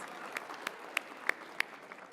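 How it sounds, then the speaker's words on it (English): An audience applauds at an alumni awards ceremony, a soft steady patter of clapping with a few sharper, louder claps standing out at regular intervals, heard from a moderate distance without voices. "Another round of applause."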